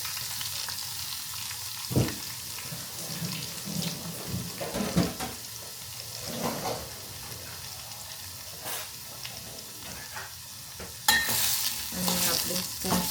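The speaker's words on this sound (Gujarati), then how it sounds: "ચાલો તો બધું આને મિક્સ કરી દઈએ।" Mango pieces and green chillies with mustard seeds and curry leaves crackle in oil in a pan for sweet-sour mango chutney, stirred with intermittent scrapes and taps, a soft steady sizzle running underneath.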